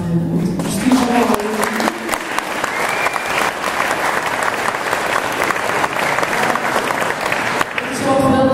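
Audience applause fills the whole stretch, steady and fairly loud, after a pianist and singers perform a cover of a duet; brief talk is heard at the start and end.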